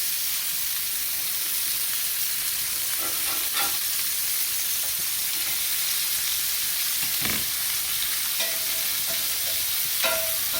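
Burger patties sizzle on a grill with a steady, even hiss and a few light clicks and scrapes breaking through now and then.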